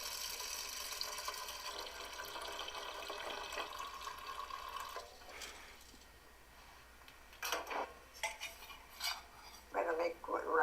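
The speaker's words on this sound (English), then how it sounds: "Put them all in the pot. Then we'll put water in here." Water runs and splashes into a cooking pot of lentils, steady at first, then it stops and a few clinks and knocks of the pot follow at low volume.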